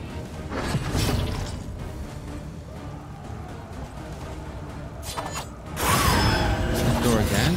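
Creaking door mechanism in World of Warcraft Hardcore, a steady grinding, ratcheting mechanical drone running throughout and swelling louder near the end, with no talk over it.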